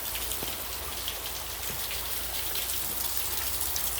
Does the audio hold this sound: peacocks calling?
no